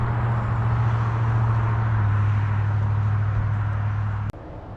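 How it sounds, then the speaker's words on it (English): Cars passing on the busy Pacific Coast Highway between Newport Beach and Laguna Beach, a steady loud roadway roar with a low engine drone throughout that cuts off abruptly near the end. "I'm sure you can hear the Maseratis zooming by."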